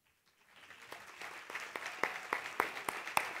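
Applause for the best Argentine feature film award at the Mar del Plata Film Festival ceremony swells from near silence into a soft, distant patter of clapping. Individual claps grow more distinct as it builds.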